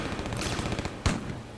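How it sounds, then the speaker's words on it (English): Gunfire rings out across a city in a sound effect: a dense, continuous rattle of shots with a loud sharp blast near the end, echoing off streets without any voices. "Gunfire echoed all over the city and nearby streets"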